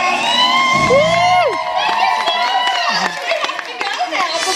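A crowd cheers, whoops and shouts loudly and steadily, with children's high voices and chatter mixed into the excited noise throughout.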